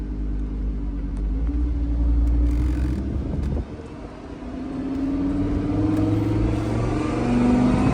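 A Lamborghini Huracan engine revs while the car is being driven, loud close droning tones that climb in pitch, drop briefly midway, then build again under steady road and wind rumble.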